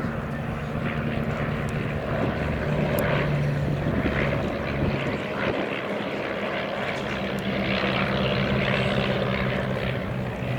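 A pair of vintage de Havilland DHC-1 Chipmunk propeller planes fly in formation at an RAF Cosford airshow, their piston engines producing a continuous droning buzz with a slightly wavering, beating tone as they pass at moderate distance.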